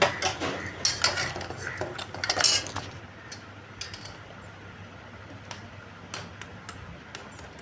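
An egg shell cracked by tapping it against a hard surface in a home kitchen, with a quick cluster of sharp clicks and knocks early on, then fainter scattered taps over a low background hiss.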